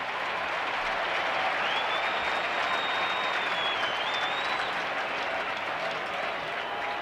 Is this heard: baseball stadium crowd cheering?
yes